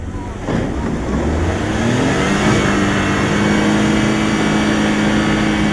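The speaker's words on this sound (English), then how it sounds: "video on YouTube of the all-electric Endurance taking on the best-selling pickup in America, the Ford F-150, in a tug-of-war contest" An all-electric Lordstown Endurance pickup and a Ford F-150 strain against each other in a tug-of-war, a loud, steady engine and motor drone rising in pitch over a noisy outdoor rumble.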